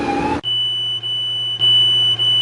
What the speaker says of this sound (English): The overfill alarm system must be designed to come into operation should normal loading operations fail to stop the tank cargo levels exceeding the normal full condition.